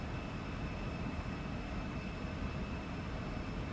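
An Embraer E175 airliner in the flight simulator X-Plane 12 rolls for takeoff, a steady, loud, unbroken engine roar with a faint high whine throughout.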